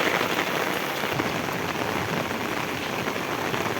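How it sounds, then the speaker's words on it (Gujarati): Very heavy rain pours down on Vejalka village in Gujarat, a loud, dense, unbroken hiss of drops drumming on surfaces all around. "મિત્રો તમે જોઈ શકો છો અતિ ભારે વરસાદ આવતા"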